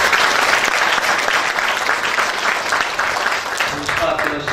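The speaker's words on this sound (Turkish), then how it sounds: "bir alkış istiyorum" Loud, sustained applause from a crowd at a memorial culture and arts event in Antakya, dense clapping filling the room throughout with no letup.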